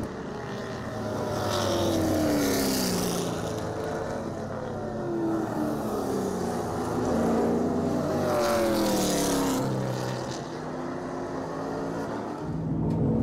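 Race cars circling a track, a steady loud engine drone with repeated rising and falling pitch sweeps as cars pass close by, continuous throughout with no talk.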